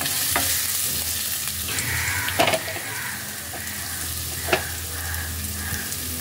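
Grated ginger frying in hot oil, a steady close sizzle with a couple of sharp spatula scrapes against the pan, no talking.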